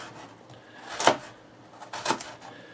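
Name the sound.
knife cutting vegetables into small half-moon slices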